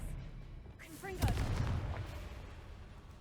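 A Confringo blasting spell in Hogwarts Legacy fires with a rising whoosh, then bursts into a loud, booming explosion with rumbling debris that fades over a couple of seconds.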